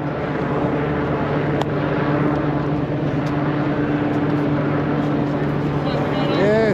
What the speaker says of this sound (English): Helicopter's back as well.